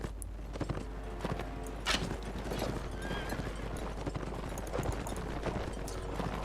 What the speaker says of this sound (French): Et ça c'est tous les ennemis. J'adore. Fantastique, ils sont tous à cheval.